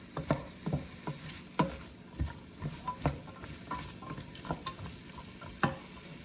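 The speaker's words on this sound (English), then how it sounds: "this will just make the carrots actually sweeter by sauteing them a little bit" Diced carrots sautéing in a soup pot for chicken soup, a soft steady sizzle under frequent close scrapes and taps of a stirring spoon, no voices.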